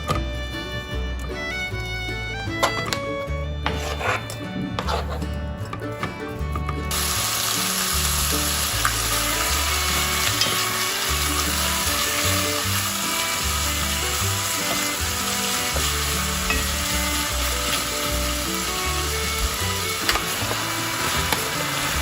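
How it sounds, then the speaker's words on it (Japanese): Chicken sizzling in hot sesame oil in a pot, a steady loud frying hiss that swells and holds, with faint stirring clinks near the start. "鍋にごま油を熱し、鶏肉を炒めていきます。"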